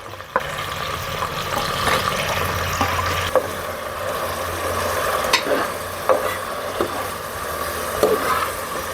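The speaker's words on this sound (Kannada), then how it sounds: "ಟೊಮೊಟೊ ಫ್ರೈ ಆಗ್ತೈತೆ" Tomatoes and onions frying in hot oil while being stirred, a steady close sizzle with repeated scraping strokes of the spoon and a few sharper clicks against the pan.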